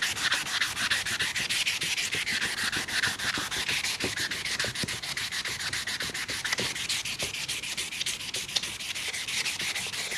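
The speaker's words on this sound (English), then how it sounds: "especially wet sanding." Hand wet sanding of a fiberglass repair on a cracked Chevy truck dashboard pad with a torn half sheet of sandpaper, heard as a close, steady, continuous rasping rub with rapid back-and-forth strokes and no talking.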